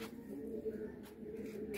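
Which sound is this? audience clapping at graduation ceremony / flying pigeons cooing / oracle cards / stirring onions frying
flying pigeons cooing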